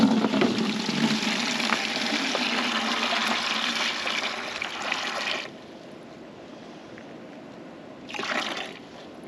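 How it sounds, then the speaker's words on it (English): Water dumped from a gallon pitcher into a bucket for mixing concrete self-leveler, a rushing splashing pour for about five seconds that then stops, with a brief second splash near the end. "I'm going to dump all but like an inch in this bucket"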